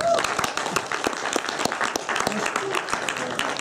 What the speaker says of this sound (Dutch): mag ik als laatste een applaus voor de topspreker van vanavond